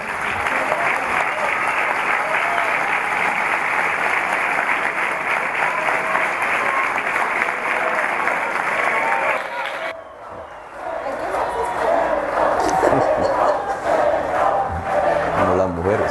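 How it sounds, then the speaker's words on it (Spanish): A crowd applauds Gustavo Petro at the launch of his candidacy for mayor of Bogotá, with sustained loud clapping that briefly dips, then swells again with cheering voices. "démosle la bienvenida con un gran aplauso a Gustavo Petro"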